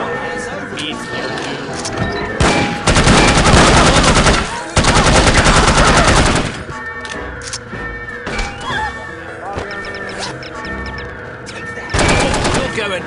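Bursts of rapid automatic gunfire in the video game No One Lives Forever, loud and close, with two long sustained volleys and quieter scattered shots between, alongside game sounds and a voice talking.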